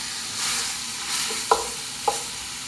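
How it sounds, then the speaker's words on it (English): Small chunks of beef frying in a pan for a Korean beef dish make a steady close sizzle, with two sharp clicks of the utensil against the pan as the pieces are moved around. "moving it around preemptively to make sure nothing sticks to the pan"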